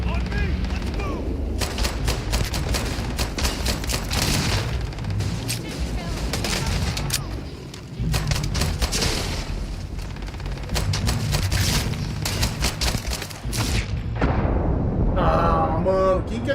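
Dense bursts of gunfire in Starfield, with an explosion from a shot barrel, loud and continuous for most of the stretch, a brief lull near the middle, then a ringing tail and talk mixed in.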